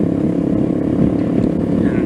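A Venom Ghost 250 motorcycle engine runs steadily after a valve adjustment, a close, loud, even low rumble throughout with no gaps.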